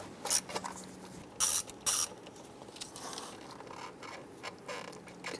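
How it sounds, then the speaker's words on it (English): A 10mm socket ratchet loosens the front airbox bolt behind the alternator on a 2002-2008 Dodge RAM, giving a few short, crisp clicking bursts separated by quiet pauses over faint background noise. "Using a 10mm socket and extension, we want to go ahead to this front bolt down here."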